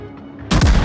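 Warship guns firing in a World of Warships naval battle: a sudden loud boom that breaks out of a quiet background and rumbles on with gunfire, close and heavy.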